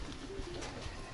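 Pigeons cooing at a busy Polish open-air market, soft low coos running under steady crowd noise for about a second.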